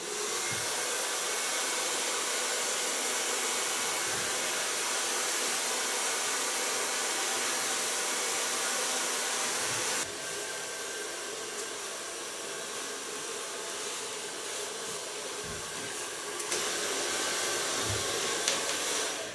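Handheld hair dryer blowing continuously while a long platinum blonde cut with purple ends is styled into a bob with a round brush, a loud steady rushing roar that shifts in tone partway through.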